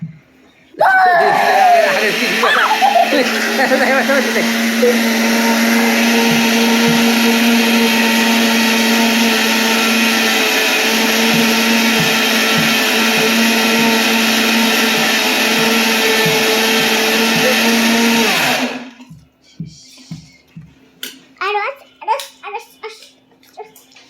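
An electric blender runs for about eighteen seconds as one loud, steady motor whine close by, then cuts off, followed by people talking, including a child.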